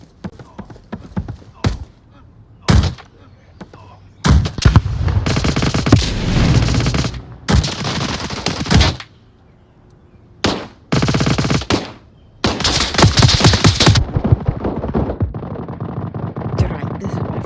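Bursts of automatic gunfire and shots ring out in the virtual reality shooter Onward, loud clustered volleys alternating with short quiet gaps, close and harsh, with some speech in between.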